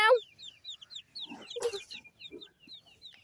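Baby chicks chirp in a run of thin, high, rapid peeps, close and clear, joined by a few brief lower scuffling sounds, while chicks scramble after worms.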